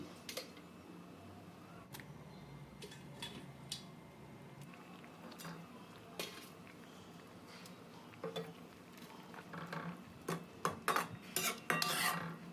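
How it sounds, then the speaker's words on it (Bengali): Pomfret fish pieces go one at a time into a pot of simmering curry, with soft plops and utensil clinks against the pan, the clatter growing busier toward the end. "মাছের পিসগুলো একটা একটা করে আমি ঝলের মধ্যে দিয়ে দিচ্ছি"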